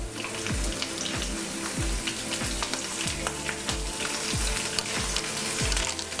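Chana dal, urad dal, cumin, mustard seeds and green chillies fry in hot oil with a steady, loud sizzle. Regular scraping strokes of stirring break through the sizzle, and no one speaks.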